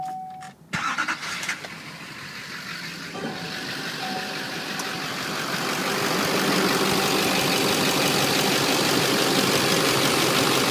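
A 2009 Chevrolet Silverado Duramax 4x4 LTZ diesel truck cranks and fires up, then settles into a steady, fairly quiet idle heard close up, with one brief word spoken at the start.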